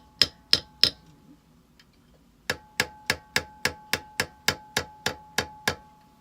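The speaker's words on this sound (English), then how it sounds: "this is again just my little ball peen hammer" A small ball peen hammer pounds a metal fork pendant, giving three sharp ringing strikes, a pause, then a steady run of about a dozen evenly spaced metallic taps, close and clear.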